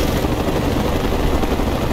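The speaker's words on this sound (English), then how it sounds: "Hostile chopper!" Helicopter flying in the video game Mercenaries 2 during a battle between rival factions, a loud, dense, steady rotor roar with no breaks.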